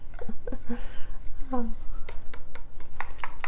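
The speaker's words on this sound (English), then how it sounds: "Just whisk it around like that." A whisk scraping and clinking around a pot of fudge mixture, quick irregular metallic taps and swishes close by, with soft speech in the background.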